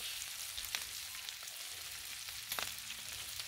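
Bacon frying in a pan alongside corn, giving a steady, soft sizzle with a few faint crackles and light pan taps, close by and with no talking.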